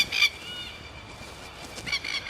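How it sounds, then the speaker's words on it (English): Ducks and plovers squabble, sending out two short bursts of honking, squawking calls at the start and end, faint and somewhat distant, with quieter chatter in between. "the ducks and the plovers are having a fight"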